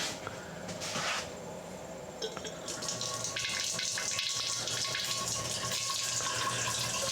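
Whiskey rye mash liquid sparged and running into a fermenter, a continuous moderate splashing, trickling pour with steady flow and no voices.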